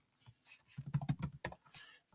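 Keys on a Chromebook keyboard are tapped in a quick burst of close, soft clicks, a handful of irregular strokes bunched together and then trailing off, with quiet pauses between and nobody talking.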